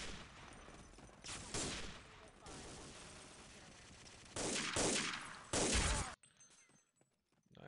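Gunfire in Day of Defeat 1.3, a World War II team shooter: dense volleys of rifle and machine-gun shots in loud bursts, with heavier clusters near the end before it drops to near silence.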